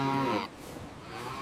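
A cow at feeding time gives a single close, loud moo that cuts off sharply, and a low rumble of farm background noise carries on afterward.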